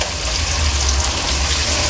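Goat head curry frying in a hot pan over high heat, a steady, loud, close sizzle with continuous bubbling and no voices.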